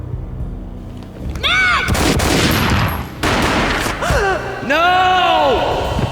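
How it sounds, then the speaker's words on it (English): Gunfire in the Max Payne video game: a sharp boom followed by dense rumbling blasts and crackle, layered with voice-like sweeping tones and game sound effects, loud throughout. "A gunshot boomed and she fell down in slow motion."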